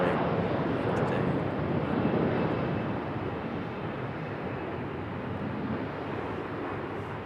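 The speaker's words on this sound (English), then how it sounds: "E-175 departing" A Delta Embraer E-175 jet airliner departs, giving a moderate, steady engine rumble that fades slightly as it goes, with wind noise and voices in the background.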